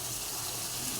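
Water used to rinse poppy seeds pours steadily into a cooking pan, a continuous broadband gush and splash that stays even and close for the whole moment, with no voices.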